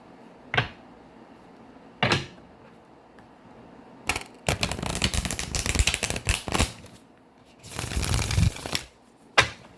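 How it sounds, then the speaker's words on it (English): A deck of tarot cards riffled and bridged several times, with sharp flutters and longer riffling bursts between short pauses, close by and fairly loud. "One more shuffle and we'll make it a good one."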